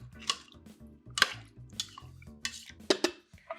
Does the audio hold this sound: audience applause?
no